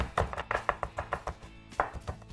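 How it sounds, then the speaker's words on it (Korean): A knife minces bell pepper rapidly on a cutting board, about a dozen crisp, evenly spaced taps with a short pause, close and clear with no talking. "이번에는 파프리카를 좀 다져볼게요."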